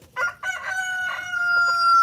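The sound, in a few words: rooster crowing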